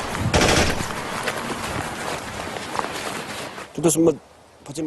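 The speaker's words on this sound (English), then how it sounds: "Further down the valley, 14-year-old Jamyang's group faced close-range gunfire" Bursts of rapid close-range gunfire from soldiers crackle loudly in a mountain valley, followed by a few sharp shots, with noisy commotion around them.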